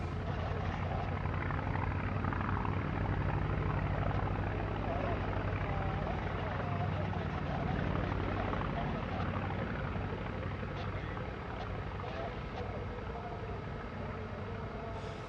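A Polikarpov Po-2 biplane flies at a Russian Air Force anniversary air show, its engine giving a steady, fairly faint drone that holds throughout, mixed with crowd or commentary noise.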